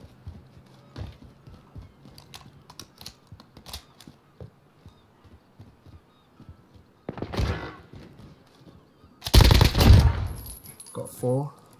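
UZI fire and other gunfire in the video game Modern Warfare, scattered taps early, then a dense burst of rapid shots and a louder sustained volley near the end, with footsteps and clatter between.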